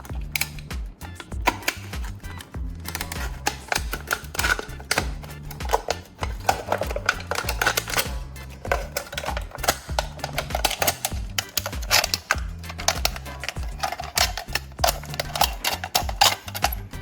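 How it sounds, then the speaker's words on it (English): Scissors or a blade cutting a piece from the aluminum shell of an empty soda can, giving a run of close, sharp clicking snips and crinkles at an uneven rhythm, with no talk. "I'll take an empty soda, can then cut out a piece of its aluminum shell."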